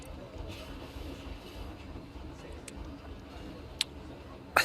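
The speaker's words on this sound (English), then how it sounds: "The park transportation here is actually a steam train." A steam train for park transportation in the Planet Coaster game rolls past with a low continuous rumble and faint clickety-clack, topped by a couple of sharp ticks near the end.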